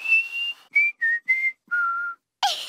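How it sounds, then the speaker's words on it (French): A cartoon pig whistles a short melody of sustained, pure tones, one long note followed by several brief separate notes, loud and close, with a short burst of another sound at the end. "Peppa a appris à siffler."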